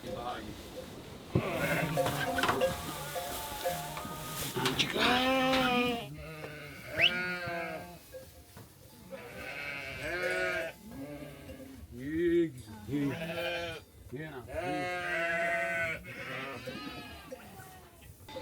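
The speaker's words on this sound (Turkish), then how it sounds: "Erkek kuzu." A male lamb bleats repeatedly in wavering, high cries, close by, with a person talking over and between the calls.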